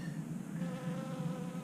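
Bees hover around a feeding spot outdoors, giving a soft, continuous buzzing drone that stays faint and even throughout.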